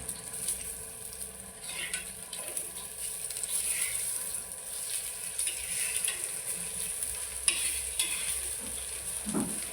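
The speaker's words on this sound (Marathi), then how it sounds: "आता व्यवस्थित अगदी फ्राय करून घेते मिडियममध्ये मी गॅस ठेवलेला आहे" Eggplant slices frying in a pan over medium heat, a steady close sizzle and crackle of oil running throughout with occasional faint scrapes of a spatula.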